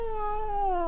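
A single cat lets out a drawn-out, wavering meow close by, holding a steady tone before dropping in pitch at the end, with no talk over it.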